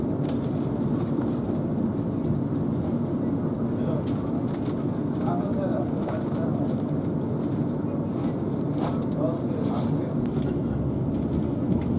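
A train pulls away on the run from Walsall towards Wolverhampton via Birmingham New Street, a steady loud rumble from inside the carriage with faint squeaks and a voice now and then.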